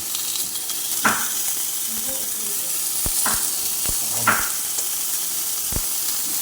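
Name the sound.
frying tamban sardines in a pan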